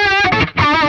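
Distorted electric guitar run through a chorus effect on a Line 6 HX Stomp, played loud and continuous with rich harmonic chords, a brief dip midway before the strumming swells back.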